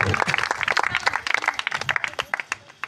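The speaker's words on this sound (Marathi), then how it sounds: "जोरदार टाळ्या होऊ द्या" An audience at a Maharashtrian Home Minister women's game show breaks into brisk, dense clapping that thins out toward the end.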